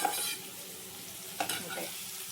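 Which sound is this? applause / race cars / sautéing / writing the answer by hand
sautéing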